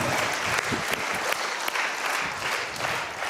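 A live audience at a humour show bursts into applause, a continuous, fairly close wash of many hands clapping for the whole stretch.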